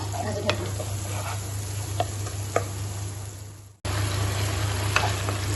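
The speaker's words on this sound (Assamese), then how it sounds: "এতিয়া মছলা আৰু বিলাহী সিজালৈকে অলপ সময় ভাজি থাকিম" Spices and tomatoes fry in a pan with a steady, close sizzle, punctuated by a few sharp taps and scrapes of a stirring spoon, with a brief drop in sound before the frying resumes.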